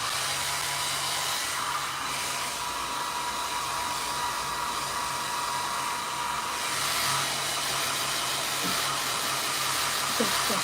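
A hair dryer blows steadily and loudly up close, drying acrylic inks on a paper page in one continuous rushing hiss with no break and no speech.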